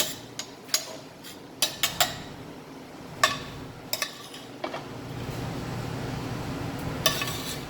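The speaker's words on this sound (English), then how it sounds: "just stir this up" Food being stirred in a pan for shrimp and grits, with scattered sharp clinks of a utensil against the pan over a low sizzle that grows steadier toward the end.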